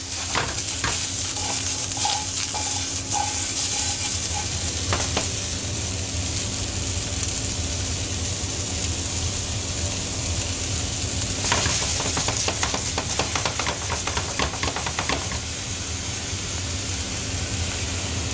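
Fructose gently cooking in a pan over lowered heat while making a Montignac-style peasant apple cake, a steady soft sizzle with light stirring scrapes throughout, alone with no talk.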